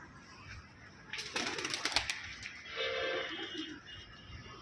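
Fancy pigeons in a loft, a soft murmur of cooing with a burst of wing flaps and rustling in the middle, quiet and close with background hiss.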